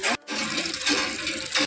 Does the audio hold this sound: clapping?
no